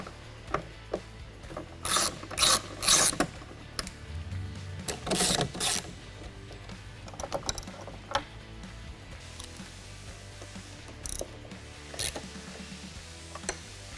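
A ratchet fitted with a T40 Torx bit loosens factory cowl bolts on a Jeep, giving several short bursts of clicking pawl strokes separated by quiet pauses and light handling noises.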